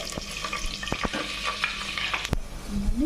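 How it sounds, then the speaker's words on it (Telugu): Onions frying to brown in a pot for chicken biryani, a continuous close sizzle broken by several sharp clicks and knocks of a spoon against the vessel. "ఉల్లిపాయలు కూడా ఎర్రగా వేయించుకుందామండి"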